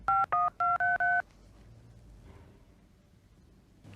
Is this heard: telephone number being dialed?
yes